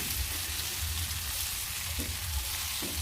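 Pieces of elephant foot yam fry in oil in a pan, giving a steady, close crackling sizzle with a few small pops and stirring scrapes.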